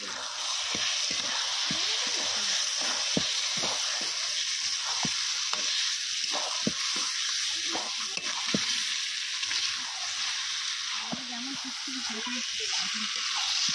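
Chicken leg pieces fry in spice paste with a steady bright sizzle, broken by frequent sharp scraping and stirring clicks from a utensil in the pan.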